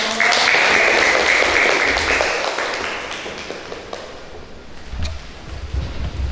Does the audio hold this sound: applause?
yes